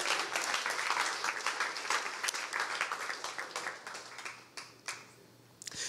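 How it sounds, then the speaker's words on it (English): An audience claps at a church service, a dense round of applause that stays loud and busy for several seconds, then thins into scattered individual claps and fades toward the end. "We're going to clap."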